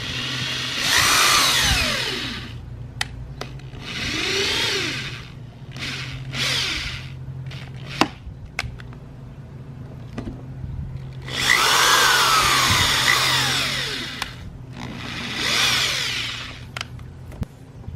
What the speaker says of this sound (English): you're just going to drill into the bumper